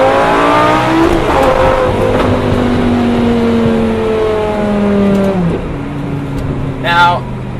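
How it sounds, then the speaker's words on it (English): A Lamborghini Gallardo engine, heard from inside on a cold night drive, roars loudly and steadily, its pitch stepping through repeated falling and rising sweeps as it downshifts, with a brief sharper rasp near the end. "Just downshifts in this car."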